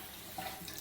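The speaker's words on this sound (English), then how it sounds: "you just run it through here and rinse all the makeup off" Running tap water rinsing a makeup brush in a sink, a steady soft splashing stream with a brief brighter trickle midway, close and fairly quiet.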